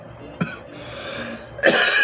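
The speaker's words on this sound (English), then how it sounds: "I'm coughing on in the mic" Two sharp coughs close to the microphone, one early and one near the end, with quiet breathy noise between them.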